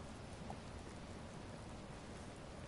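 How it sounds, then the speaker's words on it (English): Steady rain pours in the Watch Dogs video game, a dense, even hiss of drops on surfaces that stays constant and fairly loud throughout, with no speech. "Rain's letting up."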